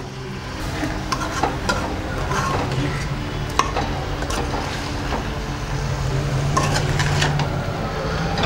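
Ladle stirring pieces of Andhra-style fish curry in a pot at an early stage of cooking, a soft continuous scraping and sloshing over a low simmering hiss, close and steady with no speech.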